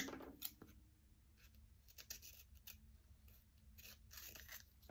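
Scissors snip close by as a flower is cut out of a strip of washi tape, giving faint repeated small clicks and crisp cuts over quiet room noise, with no talking.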